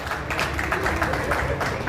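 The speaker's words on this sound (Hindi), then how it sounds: "जोरदार तालियां इन दोनों के लिए।" Applause at a Lions International regional conference, a hall audience clapping steadily at moderate volume in a dense, sustained patter.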